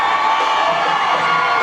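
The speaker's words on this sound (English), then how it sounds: "Loud crowd getting piped up here for the Bearcats as Levatas will go under center." Loud crowd at a 2009 high school football game, Forest versus Hazelhurst, roars and cheers for the Bearcats, a dense, sustained wash of shouting and whooping with no break.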